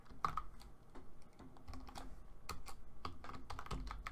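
Typing on a computer keyboard while writing Python code, a steady run of close, crisp key clicks with uneven rhythm and occasional heavier strokes, no talking.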